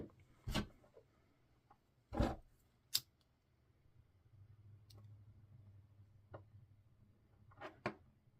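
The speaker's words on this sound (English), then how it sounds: "Cut, cut, cut, cut, cut, cut." Scissors snip through yarn during a finger-knitting project, a few sharp separate cuts spaced out with quiet gaps, close and fairly loud, with no talking.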